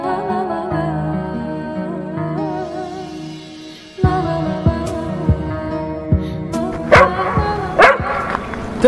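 A dog barks in a few sharp bursts, loud and fairly close, after several seconds of low talk and background sound.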